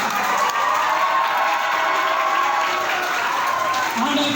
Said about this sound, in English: a big round of applause for Ritila.